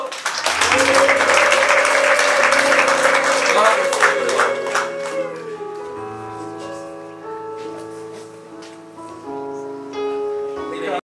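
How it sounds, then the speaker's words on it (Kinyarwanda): A wedding congregation applauds, with dense, loud clapping filling the first five seconds before it thins out beneath sustained tonal music or singing. "Amashyi menshi n'impundu."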